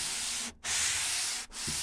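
Fine grit sandpaper rubs across a wooden surface in close, steady strokes, a bright gritty hiss with two brief pauses between passes.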